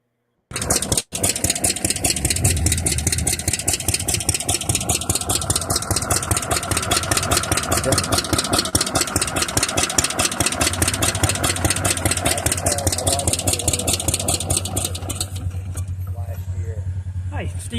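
A 1966 Arctic Cat vintage snowmobile with a rear-mounted engine idles close by, a loud, steady, rapid putter that runs unbroken for about seventeen seconds and eases slightly toward the end.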